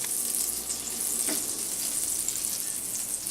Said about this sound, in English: you can tell by those sizzles, this is a fairly hot pan